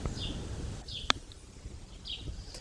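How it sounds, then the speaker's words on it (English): A loud bird calls outdoors in short, shrill repeated bursts, three calls spaced apart over faint background noise, with one sharp click in between. "with this super annoying loud bird behind me"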